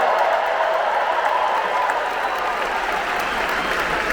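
A large crowd at the D23 2024 Disney entertainment showcase cheers and applauds in a dense, continuous roar of clapping and shouting that stays loud and unbroken throughout.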